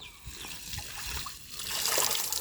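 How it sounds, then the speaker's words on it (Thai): Running water pours and trickles while a jar is washed, with a steady splashing flow that grows a little louder toward the end, heard close up. "ล้างให้สะอาดสะอาดหน่อย"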